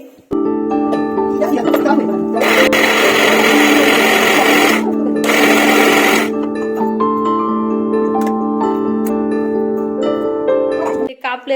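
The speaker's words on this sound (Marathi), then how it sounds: "आता हे लिंब मी मिक्सर मधून बारीक करून घेते" A mixer grinder grinds lemons, running loudly and steadily, its motor pitch wavering as the blades churn, with two brief surges of harsher grinding noise partway through before it stops.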